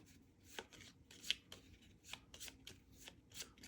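A deck of cards for the board game Architects of the West Kingdom is shuffled in quiet, irregular riffling bursts and soft rubbing, with short pauses between strokes.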